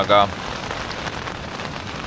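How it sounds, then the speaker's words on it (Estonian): Heavy rain pours steadily onto a surface in a dense, close hiss, with a brief spoken word at the start. "ilm otsustas teisiti, et päris tugevalt sajab"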